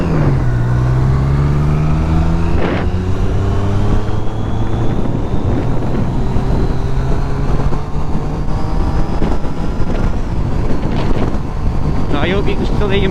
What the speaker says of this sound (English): there's a lot of wind here at the minute